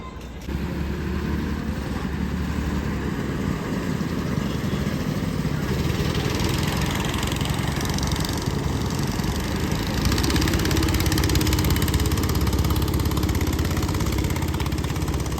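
Go-kart engines run at a karting track in Shamshabad, a steady droning engine note continuing throughout, fairly close and constant, with faint voices underneath.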